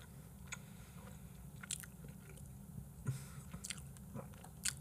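Close, wet chewing and biting of a Burger King Stacker 4 burger, with soft crunches and squishy mouth sounds in irregular bursts over steady low background noise, and no talking.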